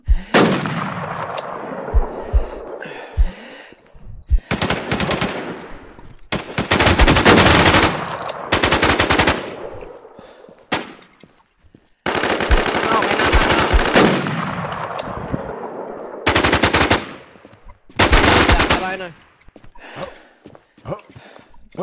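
Machine gun fire in the online shooter game Infestation, set in the Rocky Ford map, comes as loud, close bursts of rapid automatic shots separated by short pauses, with players talking in between.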